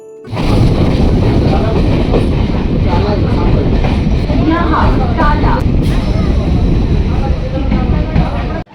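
A passenger train in Kolkata rumbles along loudly and continuously arriving at Tala station, with rattling wheels and carriage clatter close by, and a voice speaking faintly beneath the noise.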